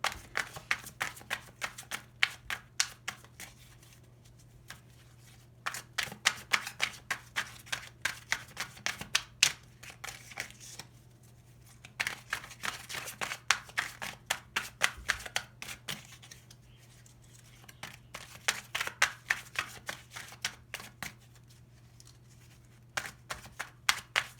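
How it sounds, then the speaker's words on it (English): A deck of oracle cards is shuffled by hand at close range in repeated bursts of crisp riffling and flicking, with short quiet gaps between rounds over a faint steady hum. "I just want to pull a clarification card from this deck, see what we get."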